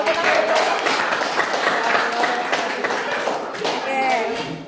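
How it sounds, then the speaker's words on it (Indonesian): A high-school classroom breaks into loose clapping as students begin a group presentation. The claps are scattered and uneven, mixed with voices talking over them throughout. "Oh ya, tepuk tangan."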